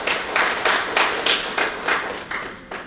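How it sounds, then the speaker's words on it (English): An audience at a sales training session claps together, a dense burst of hand applause swelling in repeated waves for about three seconds with no talking over it. "give yourselves a round of applause for those great numbers"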